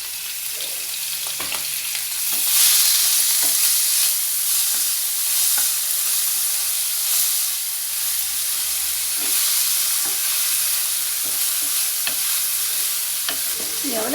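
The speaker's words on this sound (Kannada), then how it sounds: "ಹಾಗೆ ಇವಾಗ ನಾವು ಸ್ವಲ್ಪ ತುಪ್ಪದಲ್ಲಿ ಇದನ್ನು ಹುರ್ಕೊಳ್ಳೋಣ" Flattened rice (poha) fries in ghee for payasam, a steady close hiss of sizzling fat with faint stirring scrapes now and then, continuous and fairly loud throughout.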